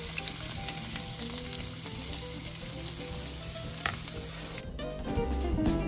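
Shallots frying in hot avocado oil in a pan beside seared salmon, a steady close sizzle that swells louder near the end, with occasional stirring clinks.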